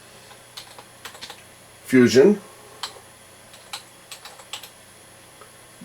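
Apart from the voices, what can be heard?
typing on a computer keyboard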